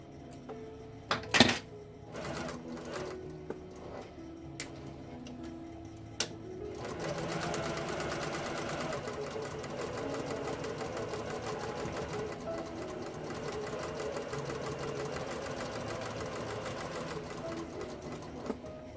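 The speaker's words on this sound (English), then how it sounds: "we're just going to go all the way around and do a nice pretty little top stitch" A sewing machine top stitches all the way around the edge of a fabric face mask, with a few short clicks and bursts at first and then a steady, continuous running hum close by.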